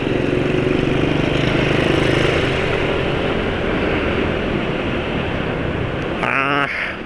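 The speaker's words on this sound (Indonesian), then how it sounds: "Susah ya kalau motor Suzuki itu, halus soalnya." A Suzuki motorcycle engine idling smoothly and steadily at close range with a loud continuous hum, and a brief higher rattling burst near the end.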